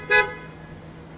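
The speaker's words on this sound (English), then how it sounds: "can you all just honk your horns really loudly?" A car horn gives one short toot, fairly faint, followed by a quiet background hum.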